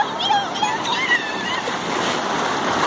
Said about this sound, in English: see how nice these waves come one by one